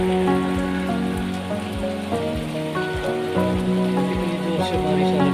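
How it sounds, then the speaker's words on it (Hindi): Heavy, steady rain pours down on a hard surface at a paddy field in Haryana, a dense continuous patter with scattered louder drips and splashes throughout. "आपको बारिश की आवाज़ भी सुनाई दे रही होगी।"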